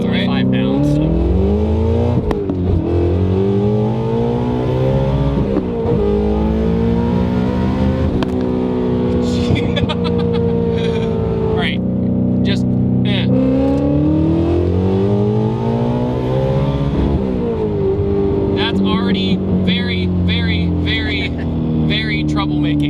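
A 1300-horsepower twin-turbo Shelby GT350 accelerates hard at full throttle through several gears, its engine note climbing loudly and dropping sharply at each upshift, with a voice talking briefly over the roar.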